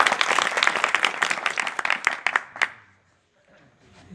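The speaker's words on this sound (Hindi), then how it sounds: "एक बार पुनः इनके सम्मान में तालियां बजा दी जाए।" Audience at a Hindi poetry gathering (kavi sammelan) claps to honor a poet, with moderately dense, uneven applause that fades out after a few seconds into near silence and faint room noise.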